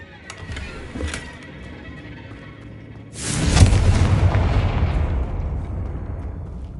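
A Confringo blasting spell goes off in Hogwarts Legacy on PS5, a loud booming explosion that swells suddenly after a quieter stretch of game ambience and then rumbles and fades slowly.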